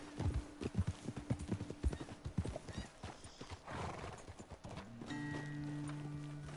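Horse hooves clip-clop and trot in Red Dead Redemption 2, a run of close, rhythmic hoofbeats with a whinny partway through, giving way to a steady tonal hum at the end.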